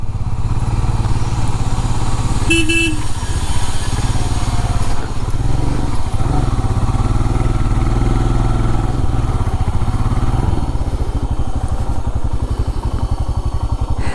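A Royal Enfield Himalayan runs off-road on Reise Moto Trail R tyres, its engine a steady, loud low drone with a rhythmic thump throughout and no talk.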